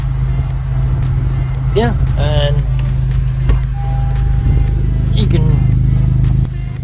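A 2017 Honda Civic Type R engine idles close by with a steady low hum and a faint higher whine throughout, while someone talks over it.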